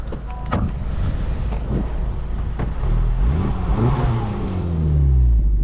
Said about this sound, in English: Let me give it a little rev here